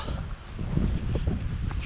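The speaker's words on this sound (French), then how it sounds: "Plein vent." Steady, blustery wind buffets the microphone, a low rumbling roar with gusty surges throughout and no voices.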